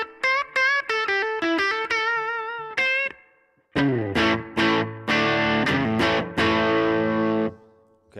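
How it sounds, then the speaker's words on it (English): Electric guitar played through a gritty, overdriven amp, a run of quick picked notes then sustained chords, each trailing off in a wash of reverb. "if I dirty up the amp just a little bit more, this is the kind of reverb sound that we get"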